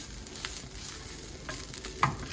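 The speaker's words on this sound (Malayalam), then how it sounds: "ഇനി നല്ല ബ്രൗൺ കളറിലായിട്ട് വറുത്തെടുക്കാം." Coconut, shallots and curry leaves frying on medium flame for Kerala beef peralan, a soft continuous sizzle with light stirring scrapes and a couple of sharper clatters near the end.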